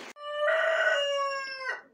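A single rooster crows nearby, one long, clear cock-a-doodle-doo rising and falling over about two seconds.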